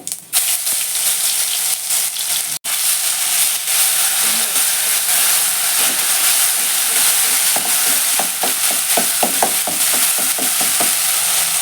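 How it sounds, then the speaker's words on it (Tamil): Ground spice paste hits hot ghee and oil with mustard seeds in a pan and sets off a loud, steady hissing sizzle close by, joined later by a quick run of stirring clicks. "அரைச்சி வச்ச பேஸ்ட்லாம் சேர்த்துக்கிறேன்."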